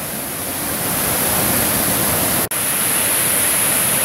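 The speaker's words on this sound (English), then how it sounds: "this is just a really interesting waterfall" The Great Falls of Tinkers Creek in the Bedford Reservation gorge roar with a loud, steady broadband rush of falling water, unbroken except for a momentary dropout midway, with no voices.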